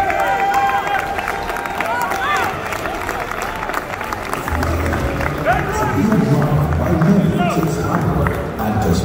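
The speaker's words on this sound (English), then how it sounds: "Please give him a round of applause." Crowd at an African music award ceremony in Lagos applauding and cheering as a legend award is presented, with lively hubbub, music and voices mixed throughout.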